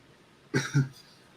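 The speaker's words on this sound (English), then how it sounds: "I was choking. I coughed it out." A man clears food from his throat with two quick, close coughs, heard alone against a quiet background.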